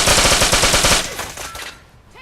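A rapid burst of automatic gunfire in Fallout 4 rattles loudly for about a second, then echoes and fades away.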